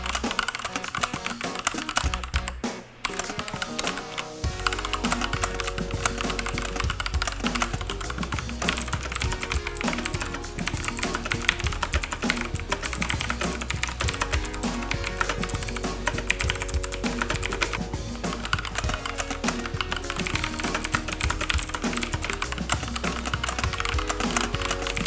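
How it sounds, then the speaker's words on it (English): Typing on the switches of a Gamdias Hermes Lite mechanical keyboard, with Kailh Blue and TTC Red switches, gives a dense, continuous clatter of close key presses lasting about twenty-five seconds, with no talking. "let me let you hear the difference between the Kale Blue switches and the TTC red switches"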